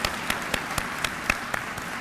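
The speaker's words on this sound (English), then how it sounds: "Please give another round of applause to Dr. Wes Scantlebury." Commencement audience applause heard as a regular series of sharp, evenly spaced claps about four per second, fairly close and crisp in a large hall, with no talking.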